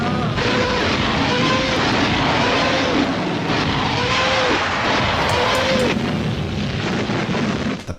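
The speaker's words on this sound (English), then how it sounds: "especially the infamous sound of the rocket engines" A World War II rocket artillery barrage, loud and continuous rocket engine roar with repeated rising, wailing howls layered over heavy rumbling, sustained for about eight seconds.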